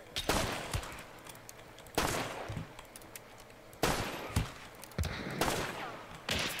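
Gunfire in the video game Hunt: Showdown, several loud sharp shots spaced a second or two apart with ringing tails, fairly close, over quiet ambience.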